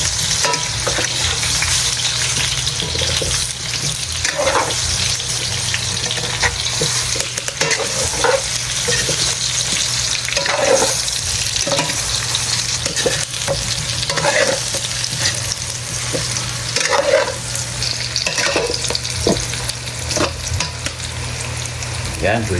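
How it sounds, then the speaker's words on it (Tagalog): Pork trotters fry lightly in a pan with a continuous, close sizzle, while a spatula scrapes and stirs in repeated strokes throughout. "Ipiprito natin na ng bahagya."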